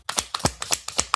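Tarot cards riffle and tap as a deck is shuffled for a reading, a close, crisp series of about seven quick snaps at an even rhythm, with no talking.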